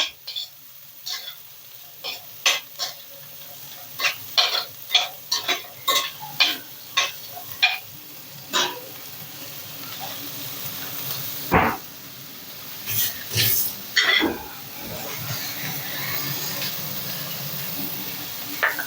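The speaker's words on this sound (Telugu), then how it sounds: "కాసేపు ఇలా వేగితే ఆ మీల్ మేకర్ ఆ వాసన అనేది లేకుండా ఉంటుంది" Meal maker soya chunks frying in a pan, with a soft steady sizzle under a run of sharp, regular clinks and scrapes from a spoon, followed by a busier stretch of louder clatter near the end.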